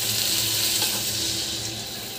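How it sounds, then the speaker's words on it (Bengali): Water poured into a pan of curry (Bengali home cooking, after frying the spices and masala), a steady broad hiss and sizzle with a splashing quality lasting throughout, close and fairly loud, no voices. "এখন একটু জল দিয়ে দেব।"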